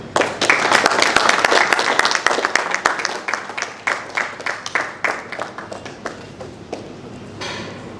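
An audience claps at an honorary decoration ceremony for the Ambassador of Chad, with steady, dense applause that gradually thins into sparse, individual claps before fading out.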